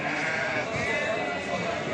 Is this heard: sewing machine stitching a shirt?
no